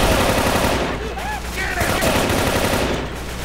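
Rapid automatic fire from a big gun, an M48, in the game Left 4 Dead 2, sounds as a dense, continuous close-range burst of shots with faint talk mixed underneath.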